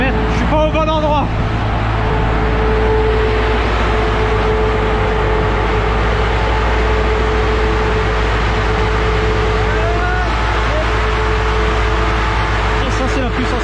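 Turbocharged Honda Civic EP3 Type R on a dyno, with a steady loud engine drone and a few rising revs in the first seconds and near the end, while someone talks over the machinery.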